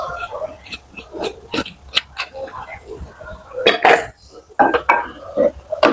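Crab being stirred in a cooking pot of boiling broth, with clinks and scrapes of a utensil against the pot in irregular bursts, close and fairly loud, mixed with bits of background voices.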